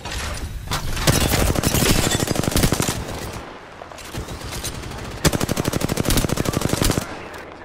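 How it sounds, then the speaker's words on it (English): Rapid automatic gunfire in the game Apex Legends, loud bursts of fast repeated shots separated by short pauses, with one long sustained burst near the start and another toward the end. "They're shooting at me."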